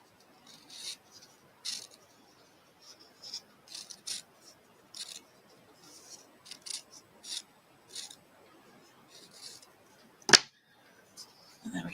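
Quiet, repeated snips of scissors cutting twine on a bundle of zinnias, a dozen or so short crisp cuts at an uneven rhythm, with one sharper louder snap near the end.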